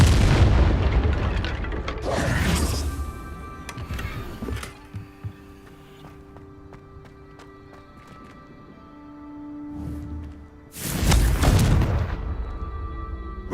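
A Confringo fire spell explodes in Hogwarts Legacy, giving two loud, booming blasts, one at the start and another near the end, with quieter game tones and ambience between them.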